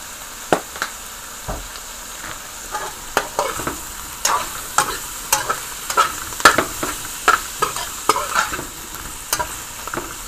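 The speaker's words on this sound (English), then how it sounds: "So let this just fry in a little." Beef and cabbage stir-frying in a pan, a steady close sizzle broken by repeated sharp scrapes and clacks of stirring throughout.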